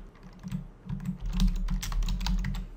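Rapid keystrokes on a computer keyboard, a steady run of close, crisp clicks over a low hum, with no voices.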